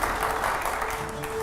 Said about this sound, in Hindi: अगले सवाल के लिए जोरदार तालियां हो यहां पर।